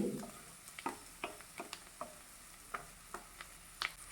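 Curry leaves sautéed with spice powders in a pan for cabbage and potato curry: faint sizzling under a scattering of sharp spatula clicks and taps at irregular intervals, quiet overall.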